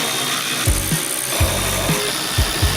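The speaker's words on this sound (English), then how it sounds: "All we have to do is firstly bolt down the Touran seat bases." A power tool drives bolts to fasten Touran seat bases inside a VW Caddy, giving short ratcheting bursts at roughly half-second intervals over a low steady hum, close and fairly loud.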